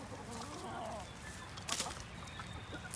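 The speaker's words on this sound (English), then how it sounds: "Look at all the chickens and roosters coming." Chickens cluck and call nearby over a busy outdoor background, with a brief sharp burst of noise midway.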